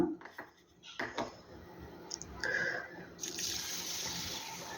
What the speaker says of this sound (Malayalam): നന്നായിട്ടൊന്ന് ഞെരടി കഴുകിയെടുക്കുക